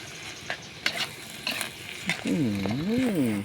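Mama instant noodles stir-fried with egg and pork: a spatula scrapes the pan in a few evenly spaced strokes over a soft sizzle, and a brief warbling tone closes the moment.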